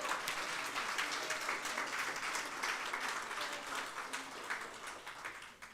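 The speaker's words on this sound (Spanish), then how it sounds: "Dale un fuerte aplauso al Señor Jesús." Sustained applause from a church congregation, a dense steady wash of many hands clapping at fairly even volume that tapers slightly toward the end.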